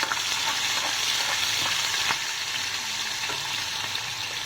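Curry leaves, dal and green chillies sizzle in hot oil with mustard and cumin while being stirred, giving a dense, steady crackling hiss with faint scraping from the spoon.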